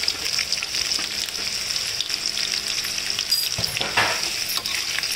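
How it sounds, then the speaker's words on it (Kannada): Onions fry in oil in a pan with a close, bright, continuous sizzle, punctuated by brief stirring scrapes and clicks, with no voices. "ಇದೊಂಥರ ಹಸಿ ವಾಸನೆ ಹೋಗಿ ಎಣ್ಣೆಯಲ್ಲೇ ಫ್ರೈ ಆಗೋ ಹಾಗೆ ಮಾಡ್ತೀನಿ"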